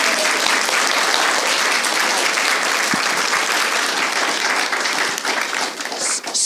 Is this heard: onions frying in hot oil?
no